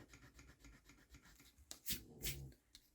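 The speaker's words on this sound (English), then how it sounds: "This is a mono sand eraser." A Mono sand eraser rubbed on paper during a craft project, producing quick rhythmic scratchy strokes up close and faint, followed by a few sharper brushing swipes.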